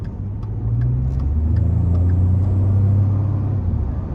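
A 2013 Ford F-150 XLT SuperCrew pickup with the 3.5-litre twin-turbo engine drives along, its steady low engine drone and road rumble filling the cab, rising slightly as it pulls, with no talking.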